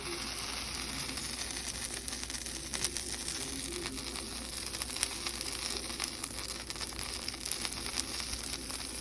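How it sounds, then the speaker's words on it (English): Butter and flour cook together into a roux for Swedish meatball sauce, giving a steady, moderately loud sizzle with faint crackles and no talk throughout. "Now to start the sauce, you want to do equal parts butter and flour."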